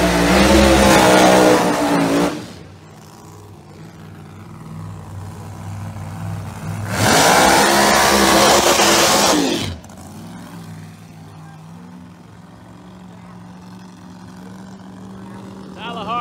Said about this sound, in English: England, not a great burnout